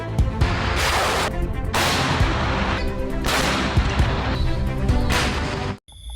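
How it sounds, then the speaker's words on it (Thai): A Lao army military exercise, with heavy gunfire and artillery booming in several loud, prolonged bursts separated by brief lulls, ending in sudden near-silence. "เสียงปืนดังสนั่นหวั่นไหว ของกองทัพลาวซ่อมรบ"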